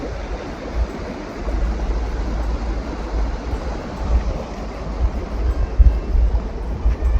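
Mission Creek rushes past a trailside campsite, a steady, broad roar of fast-flowing water that swells slightly with some low rumbling gusts, no voices heard.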